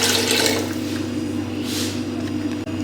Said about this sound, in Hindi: इसमें डालते हैं थोड़ा सा पानी, तकरीबन आधा लीटर अंदाजे से मैं डाल रहा हूँ